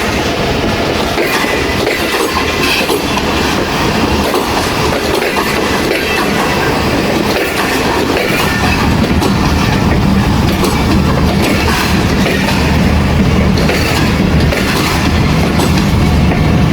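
A train rolls past at Khanewal Junction, loud and close, with a dense continuous roar of wheels and carriages, rhythmic clickety-clack, and a brief wheel squeal, unbroken for the whole stretch.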